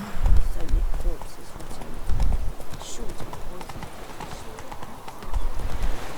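Roach the horse galloping in The Witcher 3: steady hoofbeats clip-clop close and loud, with rhythmic heavy thumps pulsing through a continuous run and game ambience, while a voice talks over it.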